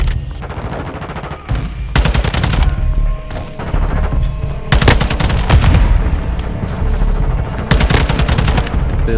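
Automatic gunfire in the Modern Warfare II beta multiplayer game, loud close bursts of rapid shots repeating in several separate volleys with brief pauses between, no talking.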